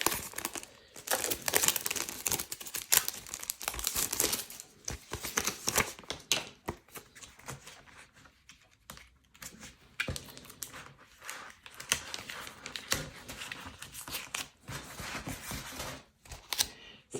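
A nail charm sticker package being opened and pressed into place, giving continuous close crinkling and rustling of plastic with clicks and taps, busy for most of the stretch and briefly quieter midway.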